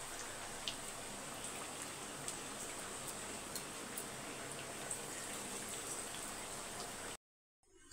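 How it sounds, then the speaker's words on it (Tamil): Heavy rain with wind pouring down steadily on a surface outdoors, a dense, loud, continuous hiss dotted with sharp drop ticks, running unbroken until it cuts off abruptly near the end. "நல்ல மழை, இடியும் சரியான மழை காற்றோட."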